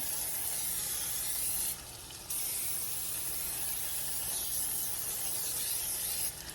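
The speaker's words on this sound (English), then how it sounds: "I'm gonna spray it with the cooking spray" A nearly empty can of cooking spray hisses continuously up close onto a baking sheet, pausing briefly once before resuming, with no voices.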